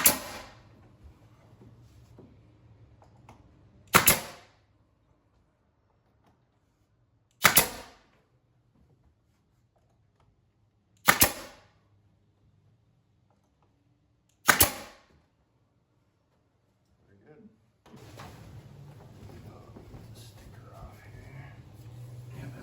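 Pneumatic air nailer fastening vinyl window trim: four loud, sharp shots spaced about three to four seconds apart in a quiet room, followed by faint shuffling and low handling noise.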